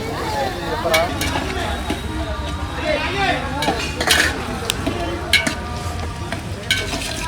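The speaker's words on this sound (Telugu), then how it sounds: "ఉల్లిపాయలు ఎర్రగా వేగాలి అంటే ముందు కొంచెం ఉప్పు వేసేయాలి ఉప్పు వేసేస్తే చాలా తొందరగా మగ్గిపోతాయి" Onions frying with salt in a pan sizzle steadily while a utensil stirs and scrapes, with clinks against the metal throughout and a voice speaking now and then.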